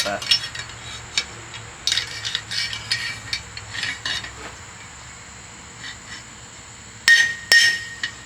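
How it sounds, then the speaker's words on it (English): A hammer peens metal on a coat rack in a workshop, giving a handful of sharp, ringing strikes spaced irregularly, with a quick close pair near the end, between quieter handling noise. "All right, I'll try to get that one to peen"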